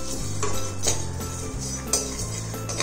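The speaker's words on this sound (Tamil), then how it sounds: "இப்போ நம்ம எல்லா மசாலா பொருட்களையும் போட்டு பொன்னிறமாக இப்படி வறுத்து வச்சுக்கணும்." Whole masala spices being dry-roasted in a pan for a Thanjavur-style chicken gravy: a metal spoon scrapes and clinks against the pan in a steady rhythm of several stirring strokes, close up, with no talking.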